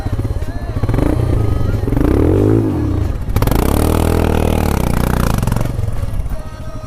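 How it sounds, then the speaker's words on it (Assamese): Motorbikes ride through a water stream crossing on the way to Ladakh, engines revving loud and close with splashing and clatter, while people shout nearby. "সকলো পানীখিনি চব বাইকখিনি পাৰ হৈ গ'ল"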